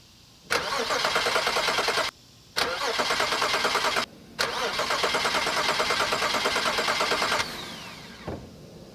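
A BMW 535xi wagon cranks without starting after new camshaft sensors were fitted: three long bursts of fast, rhythmic starter whirring separated by short pauses. The last run lasts about three seconds before everything falls quiet, heard close up.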